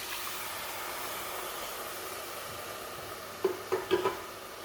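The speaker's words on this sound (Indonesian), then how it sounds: "Kita aduk jangan sampai ada yang menggumpal tepung terigunya" Milk being stirred into a cooked roux for béchamel sauce, a steady close hiss of simmering with a few soft utensil knocks near the end.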